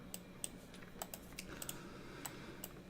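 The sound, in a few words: keyboard typing sound effect from a video game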